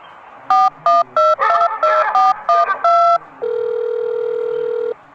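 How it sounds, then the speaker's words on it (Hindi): Telephone keypad tones beep in a quick series of about eight short presses, followed by a long steady tone, clear and close. "रुको, गोलू के दोस्तों को फोन करता हूँ।"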